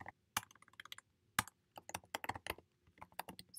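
Computer keyboard typing while writing Swift code, with quick clusters of sharp, close key clicks separated by brief pauses at a quiet level.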